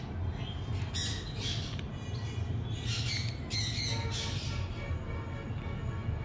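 Baby birds with splayed legs give repeated shrill squawks in short bursts, loud and close, over a steady low background rumble.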